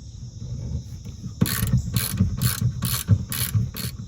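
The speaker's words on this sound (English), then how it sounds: "I'm going to remove these 3 bolts" Ratchet wrench loosening bolts on a Ford roof panel, a run of quick rhythmic metallic clicks in bursts after a quiet start, close and clear with no talk.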